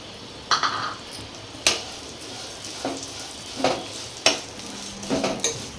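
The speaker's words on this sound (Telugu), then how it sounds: "ఇందులోనైనా ఆ నెయ్యిలోనే సేమియా వేగించుకుందాం" Vermicelli fries in ghee in a pan, giving a soft steady sizzle under a handful of sharp clinks and scrapes as it is stirred with a spoon at irregular intervals.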